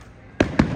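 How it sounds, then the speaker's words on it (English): Two sharp fireworks bursts go off in quick succession over a theme park with roller coasters, a loud pair of booms standing above a low background hum. "There's fireworks coming up over here now."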